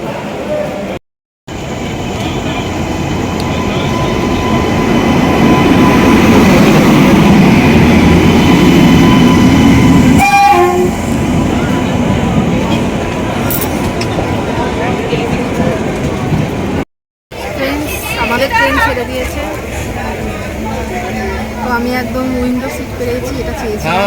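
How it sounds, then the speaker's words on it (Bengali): At Bandel station, the Kamrup Express rumbles in with a loud, sustained low roar and rattling carriages, a brief squeal midway, then fades under platform chatter and nearby voices, with two short silent gaps. "ব্যান্ডেলে দু নম্বরে ট্রেন দেবে কামরূপ এক্সপ্রেস"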